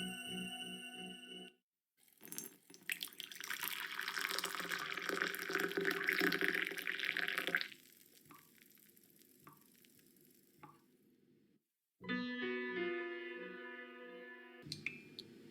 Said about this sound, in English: As he pours the hot water from the bar into the coffee dripper